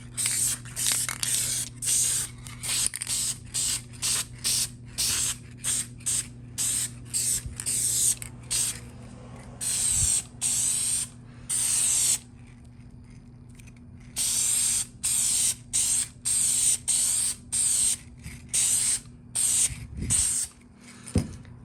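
A spray paint can hisses in short repeated bursts while a secondhand treasure box is refinished, each close, loud spray separated by brief gaps and one longer pause midway.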